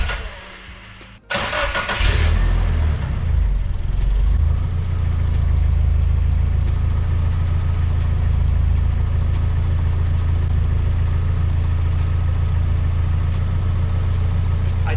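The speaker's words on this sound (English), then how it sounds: "it had never idled this low before" A Nissan SR20DET engine with a newly replaced idle air control valve cranks and fires after a brief silence, then settles into a steady, low, rumbling idle, loud and close, with no talking.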